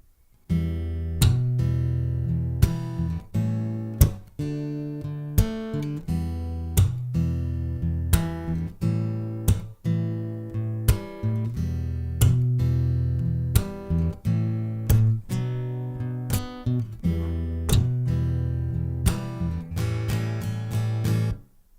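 Acoustic guitar strummed in a steady rhythmic groove through the pre-chorus chords of a song, with crisp accented strokes, played alone and up close.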